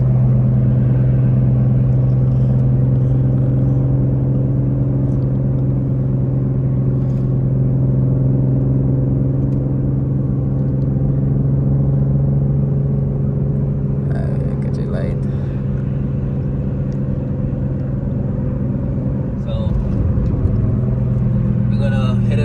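Engine of a 2008 Saab 9-3 Aero convertible with a built motor pulling from low revs, a steady loud rumble from inside the car with someone talking over it.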